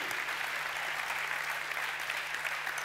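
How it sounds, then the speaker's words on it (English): An award ceremony audience claps in a dense, continuous patter of many hands, fairly distant and even throughout, with no speech over it. "Round of applause for Nespresso, for Fresco Baldi Toscana, Electrolux, Giblers, Pentola Agnelli."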